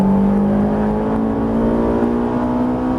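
A Ferrari 458 pulls hard on a race circuit, its engine a loud, close, continuous drone whose pitch climbs steadily. No voices are heard.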